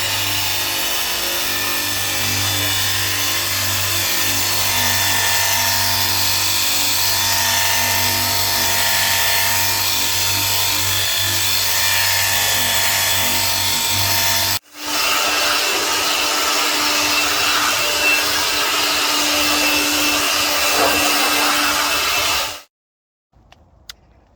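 Pressure washer rinsing a car during a detailing pre-wash, a loud steady spray hiss that runs continuously, briefly cuts out, resumes with a slightly different tone, then stops abruptly near the end.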